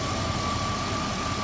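A 1999 Jeep Grand Cherokee WJ with the 4.7 V8 idles roughly, a steady low engine rumble with a faint constant whine over it, unbroken for the whole stretch and with no voices.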